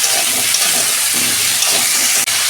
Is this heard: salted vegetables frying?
yes